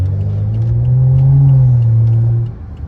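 A straight-piped BMW F10 lets out one loud, deep exhaust burble close by, swelling for about two and a half seconds before dropping off, with no talk.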